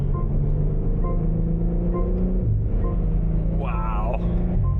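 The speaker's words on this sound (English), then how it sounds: "we're inside the dyno room now, just to make sure that all the drivetrain is running properly" A BMW M3 Touring running on a dyno indoors, its drivetrain producing a steady, loud low drone with a shift in pitch midway, while people talk over it.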